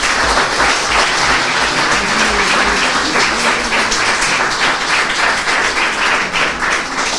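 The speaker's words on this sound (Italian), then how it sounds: "il vostro applauso, l'ho particolarmente apprezzato" An audience at a school awards ceremony for a national tree day claps loudly and steadily throughout, a dense, continuous wash of applause with no talking.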